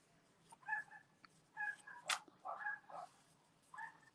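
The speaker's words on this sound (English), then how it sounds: "I can hear my dog." A pet dog barks and whimpers faintly in another room of a house during a power outage, a few short muffled yelps and whines spaced out over quiet indoor background.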